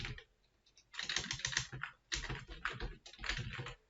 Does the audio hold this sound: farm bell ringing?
no